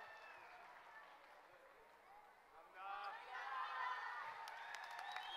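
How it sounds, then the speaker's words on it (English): Audience applause and cheering for a K-pop dance cover team performing in Seoul, rising midway into louder clapping with whoops from a crowd at a distance, with voices mixed in. "Okay, let's give one more round of applause, guys."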